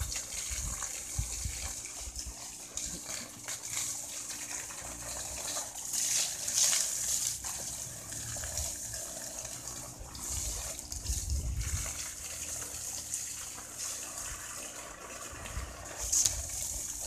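Water runs steadily through a small dam in a banana field, a continuous close trickling and gushing flow with no voices over it.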